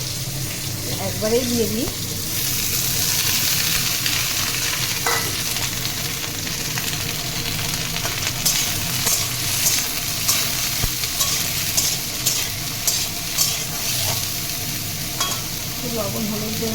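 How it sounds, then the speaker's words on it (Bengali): Bitter gourd pieces frying in hot oil with a steady, loud sizzle and stirring clatter throughout, while someone speaks briefly over the cooking. "এখন আমি উচ্ছে ভাজা করব, তার জন্য তেল গরম হয়ে গেছে।"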